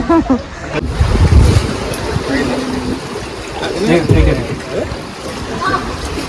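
Ocean surf washes onto Jungle Beach in Galle, Sri Lanka, a rolling roar mixed with gusty wind buffeting the microphone, while voices talk intermittently over it.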